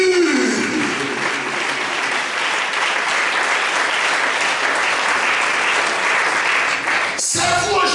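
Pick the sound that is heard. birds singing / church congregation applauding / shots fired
church congregation applauding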